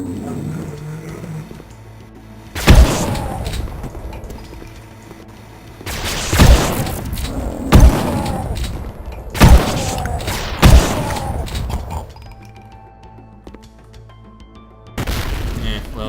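Shotgun blasts from Duke Nukem 3D fire against lizard troopers: five or six loud, sharp booms at irregular intervals of one to three seconds, each with a short rumbling tail, over a low background hum.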